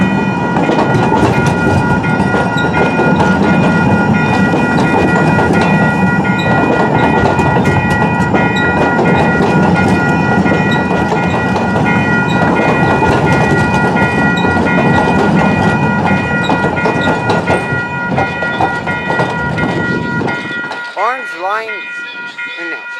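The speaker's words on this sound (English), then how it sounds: "Oh, it's just trolley coming." A San Diego trolley train passes up close on the Green Line downtown, a loud continuous rumble with clattering wheels and steady tonal squeal that ends abruptly, followed by brief wheel screech as it moves away.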